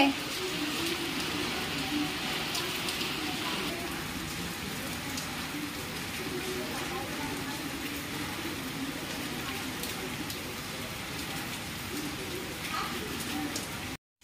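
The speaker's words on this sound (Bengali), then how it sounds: "ভালো জোরে বৃষ্টি পড়ছে" Heavy rain pours down steadily on a home during a rainy day, a dense continuous hiss of drops on surfaces lasting throughout, fairly loud and close, with no talk over it.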